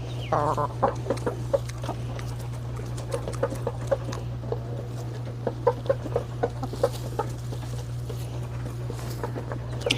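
Chickens of mixed and pure breeds cluck in a coop in short bursts and soft murmurs over a constant low electrical hum, several birds nearby calling irregularly.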